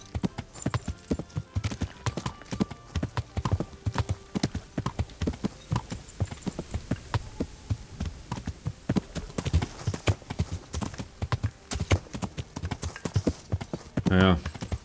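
Horse hooves clip-clop steadily at a riding pace through a green forest in Kingdom Come: Deliverance, with a voice talking over the busy rhythm and a brief louder burst near the end.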